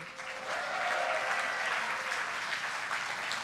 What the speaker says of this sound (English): why don't we give one more big round of applause to Eric Dodds and the Hearthstone team for all their hard work